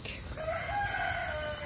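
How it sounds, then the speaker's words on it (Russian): A rooster crows once in the distance, a drawn-out call over steady outdoor background noise, at a resort in Kemer, Turkey. "петух."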